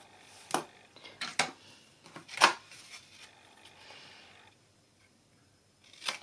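Scissors snip through paper along pencil lines while a bookmark and gift envelope are made, sounding as several distinct, close, crisp cuts spaced about a second apart, then quiet, then one more snip.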